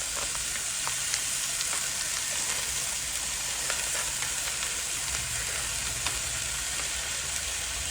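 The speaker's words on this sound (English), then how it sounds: "we're gonna make this bacon now." Bacon strips frying in a home pan, a steady broadband sizzle with scattered small pops and crackles, even and continuous from start to end with no talking.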